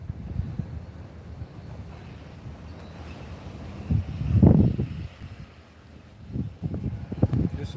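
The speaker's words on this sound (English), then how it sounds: "high winds up here." High wind buffets the open top of the Gold Spike Tower overlooking the Union Pacific rail yard in North Platte, Nebraska: a constant low rumble swells into one heavy gust midway, then gusts again near the end.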